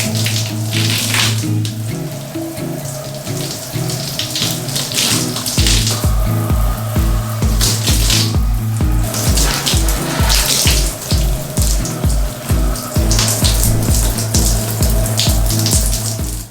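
Shower water runs steadily while hair is rinsed out, a dense close hiss with rhythmic splashing and pulsing patters as the stream hits hair and the tub, loud and without talk.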